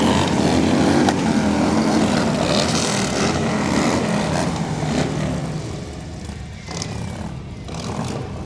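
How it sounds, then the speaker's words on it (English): Several motorcycles in a parade rumble and rev nearby in a continuous loud roar, engines rising and falling as they pass slowly by. "I'm not sure I can be heard with the motorcycles"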